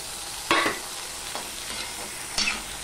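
Tomato and green chilies frying in a pan over medium-low heat, a soft steady sizzle broken by a few scraping stirs of a spatula, close by with no talking.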